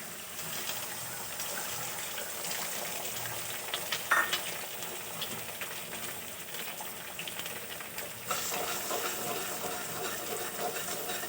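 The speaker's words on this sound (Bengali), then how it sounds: "ডিম দুটো দিয়ে দেবো।" Two eggs fry in a pan with flattened rice, a soft, steady sizzle close by with a few light clinks and stirring sounds, slightly louder toward the end.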